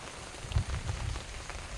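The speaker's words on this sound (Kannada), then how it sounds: "ಇವಾಗ ಮತ್ತೆ ಮಳೆ ಬರ್ತಾ ಇದೆ" Rain falling outdoors on a waterlogged farm plot among coconut and areca palms, a soft, steady patter with a few slightly louder drops, faint and fairly distant, no voices.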